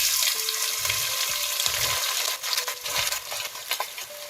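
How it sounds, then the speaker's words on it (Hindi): Onions sizzling as they fry in a pan for beef pasanday, a steady hiss of cooking with occasional clinks and stirring scrapes, no voices. "अब इसके अंदर मैं डाल दूंगी प्याज।"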